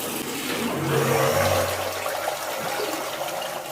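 A Parkside PTPK 400 A1 submersible water pump runs with a loud rushing gurgle of water that swells and then settles into a quieter steady flow.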